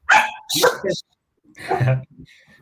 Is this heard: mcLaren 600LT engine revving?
no